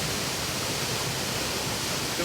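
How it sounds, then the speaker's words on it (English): A two-meter-tall waterfall on the Thiba River in Kirinyaga roars with a loud, dense, unbroken rush of falling water. It is heard close up and alone. "This around 2 meters tall waterfall, but it's so loud."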